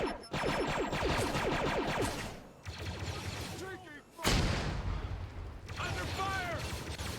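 Gunfire in a Star Wars Geonosis combat simulation game: bursts of rapid automatic shots and heavier blasts at close range, with chaotic clatter and pauses between volleys, and voices talking over parts of it.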